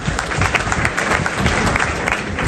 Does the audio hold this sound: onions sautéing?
no